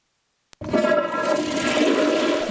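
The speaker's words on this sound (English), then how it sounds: "this one toilet flush would have used up to 7 gallons of water" A toilet flush on a college campus, in a modern low-flow unit using about two gallons: a sharp click of the handle, then a loud, steady rushing of water that fills the rest of the moment, heard close with no talking.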